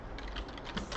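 Quick typing on a computer keyboard while entering a search, a dense patter of light key clicks in a short burst, close and fairly soft, with no talking.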